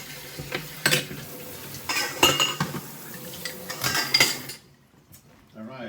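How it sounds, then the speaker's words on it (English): Prep dishes and cutlery being rinsed in a home kitchen while baking apple pie, with clinks and clatters of dishware over running activity, several sharp knocks, then falling quiet near the end. "Quick rinse on the prep dishes."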